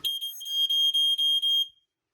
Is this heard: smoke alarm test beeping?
yes